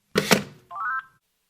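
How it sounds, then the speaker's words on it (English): A telephone handset set down with a couple of sharp plastic clunks, followed by a short electronic tone, close and clear against silence. "He seems to put the phone down on himself."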